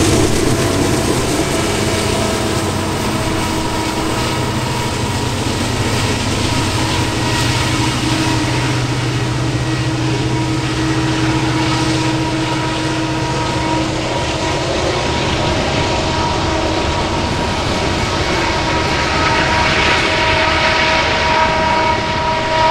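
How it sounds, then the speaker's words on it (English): A Norfolk Southern eastbound freight train climbs a mountain grade in the Allegheny Mountains, heard from an overpass as a loud, continuous engine drone and rumble with steady low tones, no voices. "where you can really hear the eastbound struggle to climb the grade"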